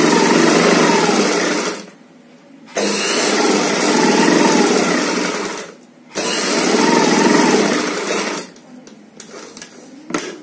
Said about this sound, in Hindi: अब हम आगे की साइड सिलाई लगाएंगे।